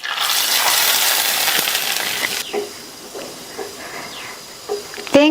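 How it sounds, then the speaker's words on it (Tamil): Hot mustard-seed and curry-leaf tempering hits a coconut-free roasted gram chutney with a loud, hissing sizzle that stops abruptly after about two seconds, leaving a few faint clinks and soft kitchen sounds. "தாளிப்பை சட்னியில சேர்த்துடலாம்."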